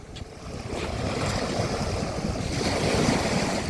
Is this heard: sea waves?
yes